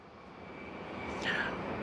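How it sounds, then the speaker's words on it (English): An airplane passes overhead as a faint, steady engine drone that slowly grows louder, a distant broadband roar with a thin whine, heard alone without talk. "I need to let the plane pass because I need you to hear this."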